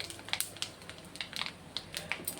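Mustard seeds splutter in hot sesame oil in a wok, quiet scattered pops and crackles over a faint sizzle.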